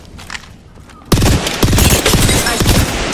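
Rapid, loud gunfire from Apex Legends bursts in suddenly after about a second of quieter game ambience. Dense volleys of close shots then follow one another almost without pause until the end.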